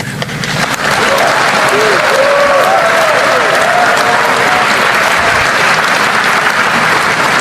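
Loud continuous applause from a large crowd during a political speech in the Philippines, a dense wash of clapping with cheers and whistles rising over it.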